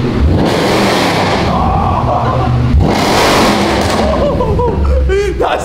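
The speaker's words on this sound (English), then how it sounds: "that's the loudest car we've had!" A loud naturally aspirated Mercedes C63 engine roars and revs hard on a dyno, rising and falling in pitch, with people talking excitedly over it.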